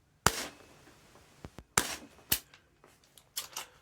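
A Tokyo Marui MWS gas blowback airsoft rifle firing 0.2 gram BBs lets off sharp, close cracks, single shots and quick pairs spread unevenly over a few seconds, with faint clicks between them.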